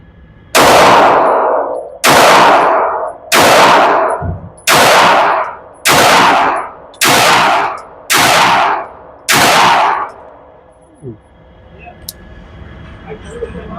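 Eight loud pistol shots ring out at an outdoor shooting range in a slow, evenly spaced string, each sharp crack trailing a ringing echo, followed by quieter range noise.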